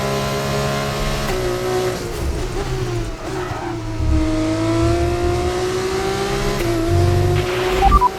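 Formula 2 race car in the F1 25 video game at Canada, its engine screaming at high revs with shifting pitch through gear changes, loud and continuous with brief tire squeal.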